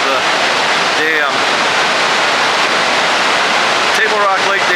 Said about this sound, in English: Tons of water coming into Lake Taneycomo still.